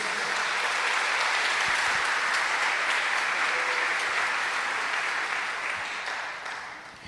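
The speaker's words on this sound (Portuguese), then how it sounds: "Dê um aplauso a ele, a Jesus" A church congregation breaks into sustained applause for Jesus, a dense, steady wash of many hands clapping together that holds evenly before slowly tapering off toward the end.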